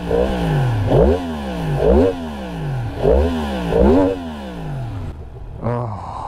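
A 2023 Yamaha MT-10 with a cross-plane engine revs repeatedly at close range, four sweeping throttle blips rising and falling over a rumbling idle, then one more quick rev.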